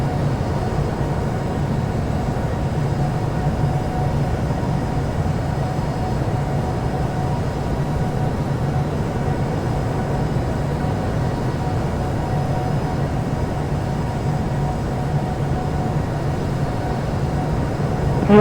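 A Boeing 737 Max in the video game Infinite Flight Simulator roars through its takeoff roll on runway 16 right at Sydney, a loud, steady, unbroken engine rumble throughout.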